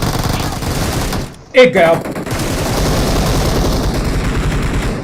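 Gunfire in the battle royale mobile game BGMI, a steady rattle of rapid shots with a brief break and a sharp burst in the middle, loud and close, with a voice speaking briefly.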